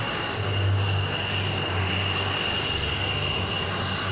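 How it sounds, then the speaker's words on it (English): Cessna light propeller airplane at an airshow, its engine droning at moderate distance with a steady low hum that swells slightly, heard alone without talk. "there goes the park ranger heading back to work to that beautiful Cessna."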